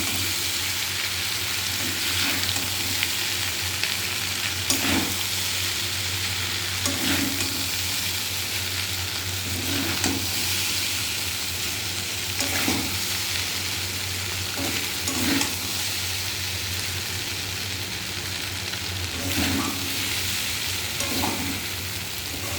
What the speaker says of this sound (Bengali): এরকম করে একটু নাড়াচাড়া দিয়ে দিতে হবে